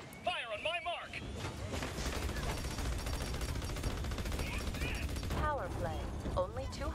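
Gunfire in the video game Battleborn, a steady crackle of rapid shots under game voices and chirpy effects, fairly quiet and continuous through the battle.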